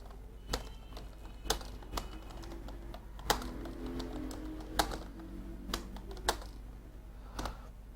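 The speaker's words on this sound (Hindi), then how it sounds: "यहाँ पर कोई तहरीर टाइप करते हैं।" Keys on a computer keyboard tap at a slow, irregular pace, each click sharp and close against a low steady room hum, with occasional faint background sounds and no speech.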